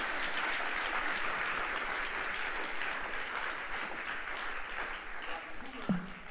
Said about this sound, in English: You should clap for me if you are not jealous